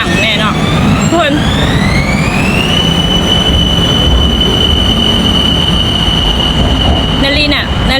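Train running with a loud, sustained high-pitched wheel squeal that rises and holds steady over the rumble of the carriages, close and continuous, with a person speaking at moments.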